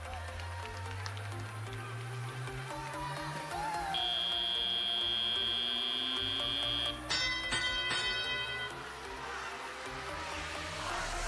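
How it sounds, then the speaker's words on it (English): A steady electronic buzzer-like bell signals the start of a robotics competition match at a regional event, sounding for about three seconds, then a short series of sharper tones, over crowd noise and an announcer's talk. "That's the bell."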